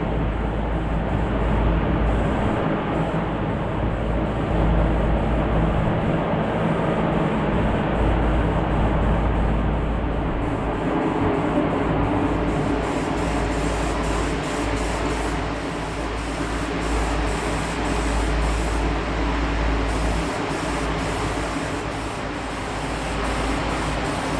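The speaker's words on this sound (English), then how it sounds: "Okay, so I got all the spray primer and all the spray, all the spots done that I want to get done." Spray primer hisses steadily from an aerosol can onto bare metal patches of a bus floor, a continuous close-up spray with no talk over it.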